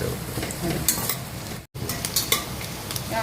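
Masala frying in a pan for biryani, a loud dense close-up sizzle with scraping stirs and spoon knocks, briefly cut by a split-second silence midway.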